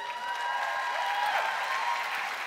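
An audience at a keynote speech claps in a brief burst of applause, dense and steady, heard from within the crowd with no voices over it.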